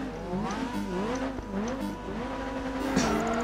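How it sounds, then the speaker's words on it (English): An Exceed racing car engine in the video game Project Gotham Racing 4 roars steadily, its pitch sweeping up and down through gear changes, with brief tire squeals; no talking. "the engine of that Exceed sounds really nice"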